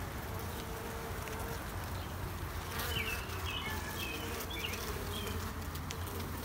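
Honey bees buzzing around a nuc hive, a dense, steady drone of many wings outdoors with a few individual bees passing close by, continuous and even throughout.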